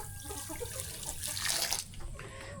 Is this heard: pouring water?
yes